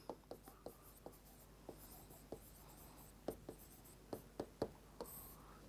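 Pen writing given data by hand for a Class 10 physics problem, a series of quiet scratchy strokes and taps spaced irregularly, close up with no talking.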